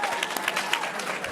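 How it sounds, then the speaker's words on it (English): Awards ceremony audience breaking into a round of applause, dense crowd clapping with scattered sharper claps, briefly and fairly close. "Give them all a round of applause."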